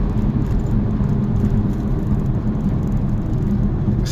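Inside an MK2 Audi TT fitted with a CTS turbo intake, the engine makes a steady, loud low hum and whir under load, with no talking.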